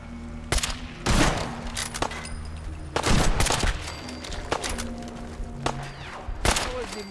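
Gunfire in Fallout 4: sharp, loud bursts of rapid shots and single cracks spaced every second or so, close and punchy over a steady low game hum, with a voice heard briefly between shots.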